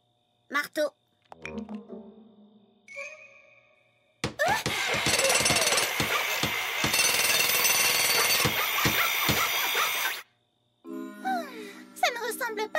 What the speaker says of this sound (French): Marteau. Marteau.